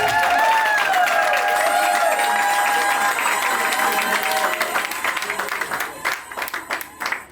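Applause for the bride at a civil wedding in Gabon, a loud sustained clapping from a crowd of guests that thins out into scattered claps toward the end, with a faint voice at the start.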